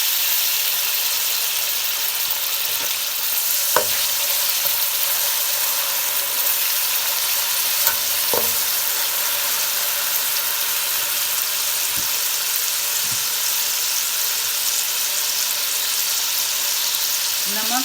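Tomatoes go into frying qeema with garam masala and kalonji, and a steady loud sizzle runs the whole time, broken by a few sharp clinks of a spoon stirring the pan. No one speaks.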